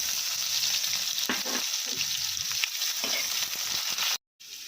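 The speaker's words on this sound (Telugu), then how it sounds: "బాగా వేగిన తర్వాత పోపు దినుసులు, ఆనియన్స్ కూడా వేసుకుందామండి." Onions and tempering spices frying in hot oil for a radish-greens tomato curry. A dense, steady sizzle runs throughout with a few stirring scrapes, then a brief dropout near the end.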